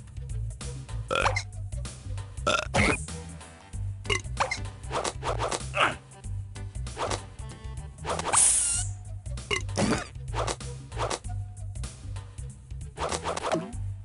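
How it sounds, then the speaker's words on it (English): Repeated cartoonish burps and gulping belches from the video game Timon & Pumbaa's Jungle Games, coming in irregular bursts over a steady low musical backing, loud and close. "Perfecting one's burping skills takes time."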